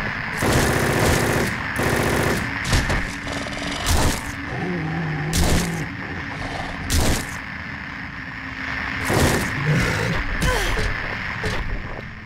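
Sustained machine gun fire in Silent Hill 3 on PCSX2, loud bursts of rapid shots repeating across the clip with short pauses, close and dominant over game ambience.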